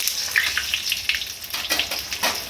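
Chicken moghlai frying in a pan makes a steady close sizzle and crackle with small spatters throughout.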